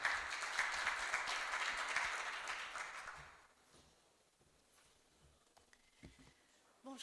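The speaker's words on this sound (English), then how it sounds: "Je vous demande d'applaudir Madame Nedeh El Abidi." Audience applause at a summit on the transition from IPv4 to IPv6, steady close clapping from a crowd for about three seconds that then fades to scattered claps and room noise.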